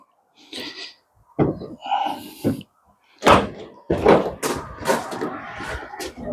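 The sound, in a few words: Opel Movano van rear doors opening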